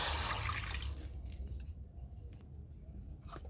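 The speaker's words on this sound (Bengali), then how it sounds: "কড়ার মধ্যে আমি একটু জল দিয়ে দিচ্ছি।" Water poured from a pot into a wok set on a clay stove, a brief splashing gush that is loudest at the start and then settles into a faint trickle and drips.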